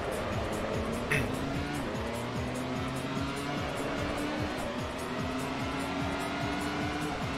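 Formula One race cars roar past in Grand Prix Challenge on PS2, a Ferrari diving up the inside to overtake. Loud, overlapping engine whines rise and fall steadily under a faint tyre squeal throughout.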